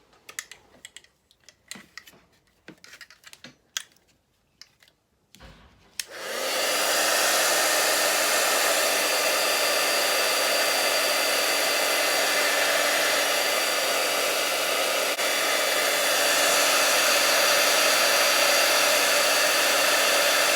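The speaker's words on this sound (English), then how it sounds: "We're going to heat emboss that now. So just bring my heat tool in again." A heat embossing tool switches on partway through and blows a loud, steady whirring rush while heating stamped paper for a feather design. A few light taps and rustles come before it.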